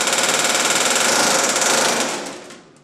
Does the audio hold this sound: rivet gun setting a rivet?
yes